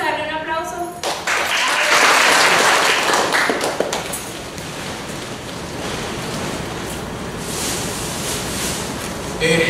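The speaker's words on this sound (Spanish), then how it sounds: "Vamos a darle un aplauso." A room full of people at a DXN business training event bursts into loud, dense applause after a brief spoken moment, the clapping holding strong and even for several seconds.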